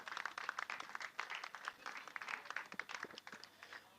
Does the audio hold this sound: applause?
yes